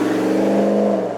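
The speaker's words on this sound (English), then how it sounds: "a heavier poke on the loud pedal sees an immediate and pleasing swelling of the growling soundtrack which follows the GT around" A 2022 Ram 1500 Rebel GT pickup with a Hemi V8 and sports exhaust revs under heavy throttle, a loud, steady, deep growling engine note swelling slightly, close and alone.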